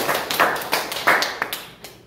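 Audience applause at a lecture in a hall, a short burst of many hands clapping with uneven rhythmic peaks that fades out after about two seconds, with no talking over it.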